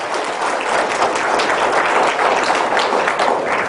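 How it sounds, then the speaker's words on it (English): An audience at a leadership talk claps, a steady burst of many hands applauding together, dense and sustained for a few seconds. "So can we have a little clap of hand"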